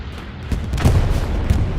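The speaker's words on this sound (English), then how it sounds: "Bombing run, possible." Bombing run explosions in the WWII shooter game Hell Let Loose, a dense, continuous low rumble with heavier booms swelling through the middle and near the end.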